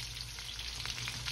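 Shrimp deep frying in hot oil for old-school crispy restaurant-style fried shrimp, a dense, even bubbling hiss held close and steady throughout.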